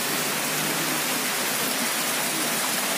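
Heavy first rain of the season pouring steadily in Khalilabad, Uttar Pradesh, a loud continuous hiss with no pauses or voices.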